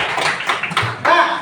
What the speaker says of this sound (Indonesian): Betul, tepuk tangannya mana?